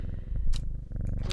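A cat purrs in the video game Strange Horticulture, a low rumbling purr running steadily through the clip with a few brief higher chimes or clicks over it.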